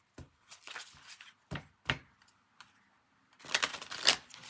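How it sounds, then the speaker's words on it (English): Tarot cards being shuffled: a series of quick papery flicks and taps, close and fairly faint, spaced irregularly and ending in a denser riffling burst. "We're going to do one more shuffle."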